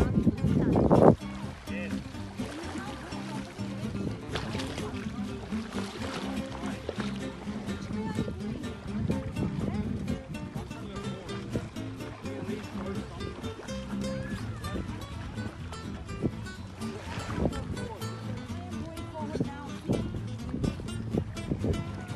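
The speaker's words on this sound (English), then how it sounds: "there is a video of me and my mom kayaking" A kayak being paddled on the water in Fiji, with steady sloshing and splashing close by under continuous background music and occasional voices.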